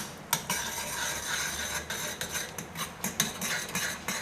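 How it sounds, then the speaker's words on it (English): A utensil stirs raspberry and rose powders into hot honey candy syrup at 160 °C in a pot, with steady scraping and clinking strokes that repeat in an even rhythm against a soft sizzling hiss. "I'm adding the raspberry and rose powders, basically speaking. We'll blend them in."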